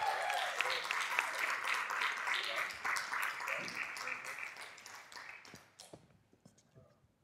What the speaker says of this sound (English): So can we give Phil a round of applause